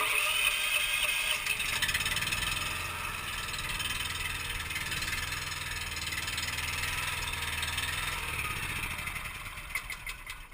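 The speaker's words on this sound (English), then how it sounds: "we'll see if the motor will fire up today" A spray tender trailer's motor on a Hyster lowboy runs steadily at a loud, close idle with a constant droning rumble and high whine, the engine note easing slightly toward the end.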